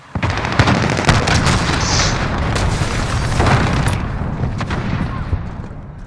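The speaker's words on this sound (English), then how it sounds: "Enemy cruise missile incoming!" A cruise missile strike in Call of Duty: Modern Warfare, a loud sustained roar of explosions and booming blasts with scattered gunfire cracks filling the whole stretch before easing near the end.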